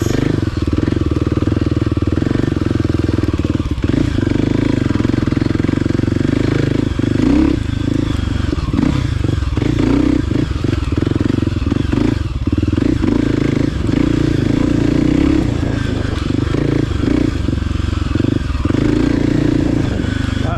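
A 2024 Kawasaki KLX300 dirt bike rides over roots, its engine droning loud and close without a break, while clattering knocks and scrapes keep breaking through the steady note.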